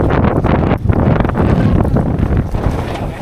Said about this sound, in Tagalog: Grabe na lakas ng hangin.